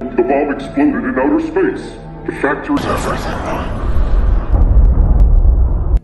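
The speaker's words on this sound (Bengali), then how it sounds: "দেখতে দেখতে সেখানে একটা বিশাল বড় ব্লাস্ট হয়" A huge blast in the sci-fi film Space Sweepers erupts midway as a loud, sustained rumbling roar with deep low-end swells, following narration and continuing under a booming, crackling tail.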